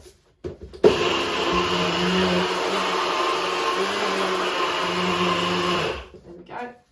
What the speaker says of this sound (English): So I've got oats in here which I'm going to blitz up in my NutriBullet